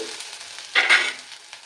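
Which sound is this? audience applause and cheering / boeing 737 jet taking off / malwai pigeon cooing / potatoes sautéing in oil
potatoes sautéing in oil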